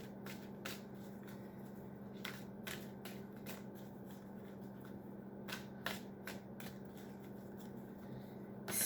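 Oracle cards are handled and shuffled in a series of quick, crisp riffling flicks that come in irregular bursts over a low, steady background hum, close and fairly soft.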